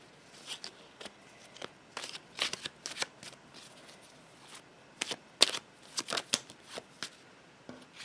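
A deck of cards is shuffled in quick bursts of riffling and soft slaps, scattered irregularly across several seconds, close and fairly quiet with no talking.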